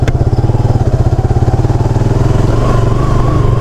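A motorcycle engine thrums loud and close in a steady rapid pulse, holding a constant rhythm with a slight rise in pitch near the end, while the bike is ridden along a dangerous off-road trail.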